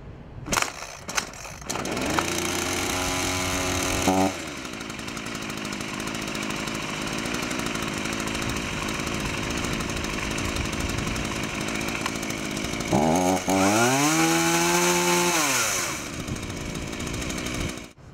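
An Earthquake gas chainsaw is pull-started: several sharp rope pulls and sputters, then the engine catches and drones steadily, with a clear rev up and back down near the end.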